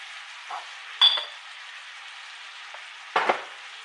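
Seasoned ground beef with oregano and salt being stirred in a pan, with a steady faint sizzle broken by a few sharp metallic spoon clinks and scrapes, the loudest near the end.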